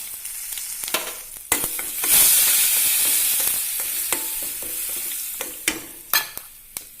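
Mustard seeds and spice powders such as coriander, cumin and asafoetida fry in hot oil for a mango curry, giving a steady close sizzle with sharp pops and stirring clatter, without talk.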